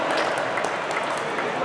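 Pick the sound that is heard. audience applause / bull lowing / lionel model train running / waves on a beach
audience applause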